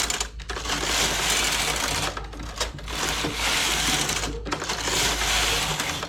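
Knitting machine working a jacquard pattern with a second yarn colour, a dense mechanical clatter as the carriage is run back and forth in long passes, broken by brief pauses between rows.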